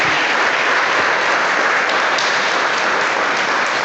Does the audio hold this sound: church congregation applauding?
yes